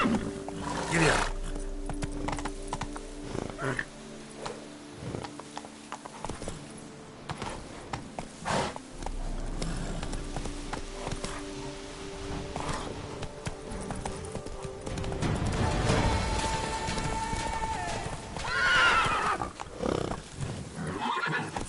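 In The Witcher 3, a horse clip-clops along under a rider, its hooves thudding in rhythm with occasional neighs and whinnies over a busy, layered game soundscape.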